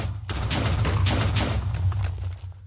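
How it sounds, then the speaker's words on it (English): Firecrackers going off in a video game, a rapid crackling string of sharp pops with a low rumble beneath, loud and continuous for a couple of seconds before stopping. "These are firecrackers."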